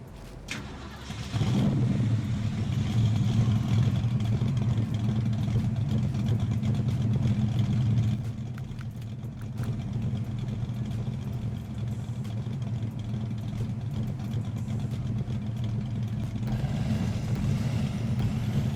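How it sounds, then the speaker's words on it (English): A steady truck engine in the game SnowRunner rumbles and idles with a low, heavy drone, revving slightly around the middle before settling back to a constant hum. "let's just jump outside so you guys can hear the engine."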